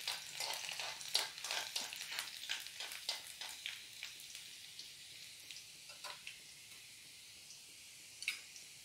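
Garlic fries in hot oil for a vegetable stir-fry with a soft, close sizzle and a quick run of spatters and stirring scrapes at the start. The sound then settles into a fainter steady hiss.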